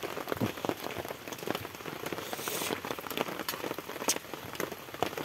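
Steady rain falls and patters on surfaces outdoors at a rural Thai village home, a continuous dense hiss with scattered sharper drops and no voices.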